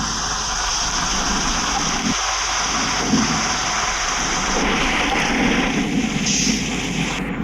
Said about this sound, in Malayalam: ഗെയിമിന് ഫസ്റ്റ് നല്ല മഴ പെയ്തു തുടങ്ങി